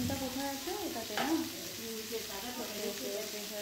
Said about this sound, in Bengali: চলো আমি একটু নেড়ে নিই।